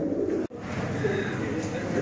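High-quality paired flying pigeons coo in a dense, steady chorus, with a brief dropout near the start and a voice talking faintly under the birds.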